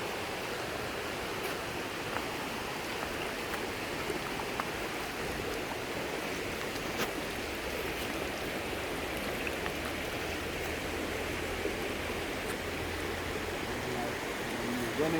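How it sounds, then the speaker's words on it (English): Steady broadband rush of a stream's running water at a former bathing place, continuous and even throughout with no distinct events, a constant wash of flowing water close by. "Running water always good."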